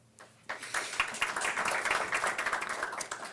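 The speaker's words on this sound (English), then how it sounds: "we can clap for that" Audience clapping at a school board of education meeting, starting abruptly after a brief quiet and continuing as dense, steady applause from many hands filling the room.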